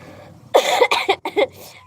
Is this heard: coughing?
yes